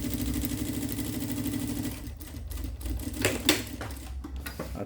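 Sewing machine stitching a backpack pocket, a fast steady mechanical whir that slows and breaks into uneven stops and restarts midway, close and alone.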